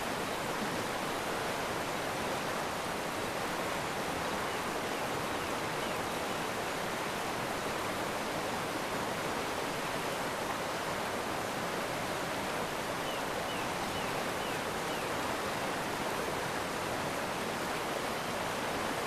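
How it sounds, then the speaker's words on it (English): Loud, steady roar of a jungle waterfall, broadband rushing water filling the whole scene without a break and drowning out everything else nearby. "It's so hard to hear the rod over the waterfall."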